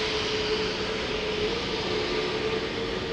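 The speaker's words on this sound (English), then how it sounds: "A320neo SAS outbound Oslo." Steady roar of an SAS Airbus A320neo jet airliner departing Schiphol Airport bound for Oslo, a continuous broadband engine rumble heard from a distance outdoors with no talk.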